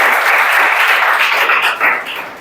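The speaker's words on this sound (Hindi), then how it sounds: "चलो ताली बजाओ।" Students in a classroom clapping together in a short, dense burst of applause that fades toward the end.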